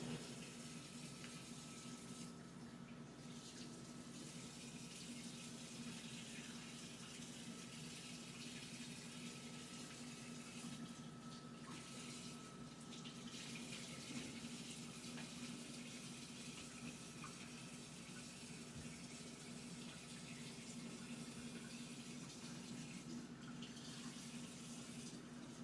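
A tap runs steadily into a sink while something is rinsed off, producing a constant broadband water rush that holds at an even level throughout.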